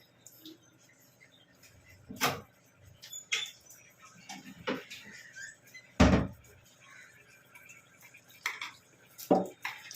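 A lid is set onto a pot of simmering methi chicken, giving a few distinct metallic clanks spread across a quiet kitchen background.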